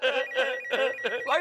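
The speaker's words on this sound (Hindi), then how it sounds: "भाई फोन आया, फोन उठाओ।" A telephone rings in a fast repeating electronic warble, four or five bursts in quick succession, loud and close, with no talking over it.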